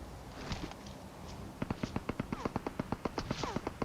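Rapid gunfire in the PUBG video game opens with a few scattered shots, then a quick burst of about twenty sharp cracks in a near-regular rhythm, moderately loud against low background noise.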